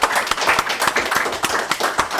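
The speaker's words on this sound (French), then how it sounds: "On peut les applaudir, s'il vous plaît." Audience applause at a live French talk event for young people, brief bursts of clapping with sharp irregular hand claps over a steady crowd wash, close and moderately loud.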